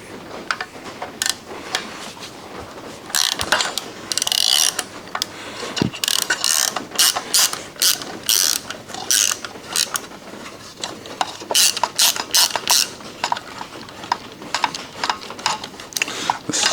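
A ratchet wrench clicks in quick bursts while loosening bolts on the power steering pump of a 1983 K10 with a 350 engine, rapid close metallic pawl rattles separated by short pauses, with no talking.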